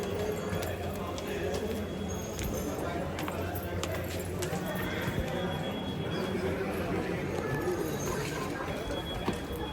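Marwari horses move around the grounds of a palace courtyard, with soft irregular hoof clops amid crowd murmur and someone speaking over the scene.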